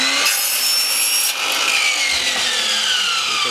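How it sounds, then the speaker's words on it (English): Chop saw slicing through a carbon composite shaft during a blade patch repair, a loud sustained high-pitched grinding whine with a brief dip midway, heard alone over a few seconds. "So I'm going to use a chop saw."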